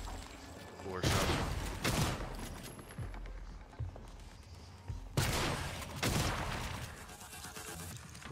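Gunfire in the video game Prey, with several loud broadband bursts around 1–2 s and again near 5–6 s over a continuous game soundscape, with speech mixed in.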